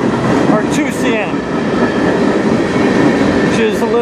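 A CN freight train passes on the Strathroy Subdivision in Ontario, a loud continuous rumble of rolling cars with wheel clatter and faint high squeals throughout.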